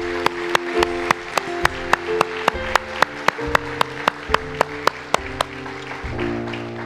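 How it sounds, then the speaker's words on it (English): Congregation clapping during a church service, a steady rhythm of sharp, regular claps over sustained music with bass notes, fairly loud and evenly spaced throughout. "Can we give a clap offering to the Lord today?"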